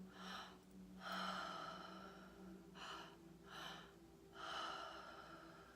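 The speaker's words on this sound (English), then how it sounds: "breathing in through our belly and our chest, out through our mouth, all open mouth" Deep open-mouth breathing during a guided breathwork meditation, with about four long, rhythmic inhale-exhale cycles close to the mic over a soft, steady background tone and no talking.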